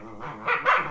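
A dog barks indoors, two quick, moderately loud barks in close succession over a faint background.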